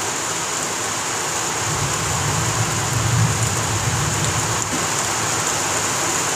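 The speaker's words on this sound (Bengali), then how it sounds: "বিদ্যুৎ পড়ার আওয়াজ মাঝে মধ্যে শোনা যাচ্ছে এবং এখন ভারী বৃষ্টি হচ্ছে অনেক জায়গাতেই" Heavy rain falls steadily in a broad, even hiss during a West Bengal storm, with a low rumble swelling briefly near the middle that may be distant thunder, and no voices.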